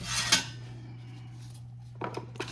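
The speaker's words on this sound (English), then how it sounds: "stir this up and mix it good together" Utensil clinks and scrapes against a bowl while stirring a pork marinade with ginger: a sharp clatter at the start, a quiet pause, then a few lighter clinks near the end, over a low steady hum.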